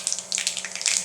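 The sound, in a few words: mustard seeds spluttering in hot coconut oil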